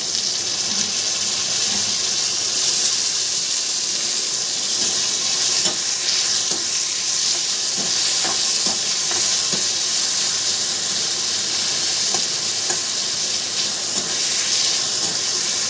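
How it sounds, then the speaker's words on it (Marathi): Onions and tomato fry in a pan with salt, making a loud, constant close sizzle with hissing steam and scattered spoon scrapes as they are stirred, with no one talking. "थोडंसं आपण कांद्यावर असं मीठ टाकू म्हणजे पटकन भाजतो कांदा."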